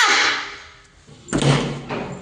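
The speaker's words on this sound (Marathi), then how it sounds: "दरवाजा उघडा पोरांना" A house door is opened, heard as a rushing scrape that fades, a brief lull, then a second louder scraping swing with a dull thud, close by and with no talking.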